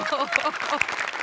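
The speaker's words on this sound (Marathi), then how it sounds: "त्याकरता रसिकासाठी टाळ्या वाजल्या पाहिजे" Applause from a studio audience on a Marathi comedy show, brief and partly mixed with talking and laughter.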